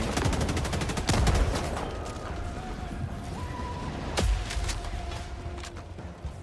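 Helldivers 2 gunfire against robot enemies, a rapid automatic stream of shots at the start with louder heavy blasts after, over steady battle noise and game tones; no talk.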